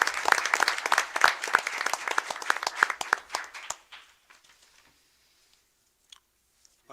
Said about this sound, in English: Please give Dr. Sickbert a round of applause